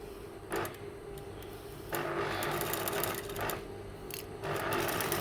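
A sewing machine stitches the sleeve of a doll's shirt in several short, quick runs separated by brief pauses, running at close range and fairly quietly.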